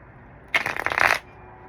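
A tarot deck is riffled in one quick burst of crisp, fluttering card clicks lasting about half a second, close and clear in an otherwise quiet room.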